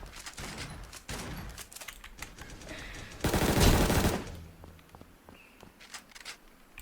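Video game gunfire, rapid bursts of automatic shots and single cracks with a louder sustained volley in the middle, mixed with footsteps and no talk.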